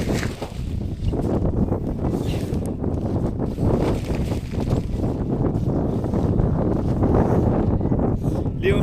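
Strong wind roars and buffets a microphone outdoors while a tent flysheet is folded, a loud continuous gusty rush with flapping fabric, steady from start to finish.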